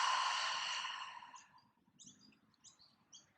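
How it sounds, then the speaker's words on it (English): A long, breathy exhale out through the mouth during morning yoga, close and soft, trailing off after about a second and a half, followed by faint birds chirping in the background. "Exhale, nice long exhale out the mouth."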